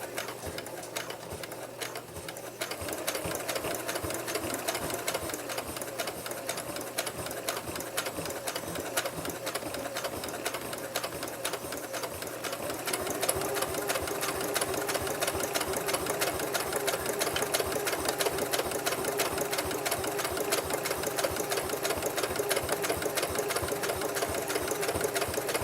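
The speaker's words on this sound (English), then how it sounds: "Sometimes your machine has trouble going through thicker spots, and you could possibly break a needle if you go too fast." A sewing machine stitches through a fabric potholder, a fast, steady mechanical chatter that runs without a break and grows louder and denser about halfway through, with no talk.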